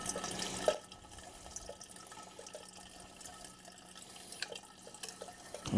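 Fuel drains from the carburetor of a surging Vanguard generator in a quiet workshop, heard as soft, faint dripping and trickling liquid, with a few small clinks and no speech.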